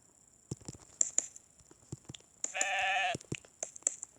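In the mobile game WorldBox, a short sheep bleat stands out among scattered soft taps and clicks, with a faint steady high-pitched tone running underneath.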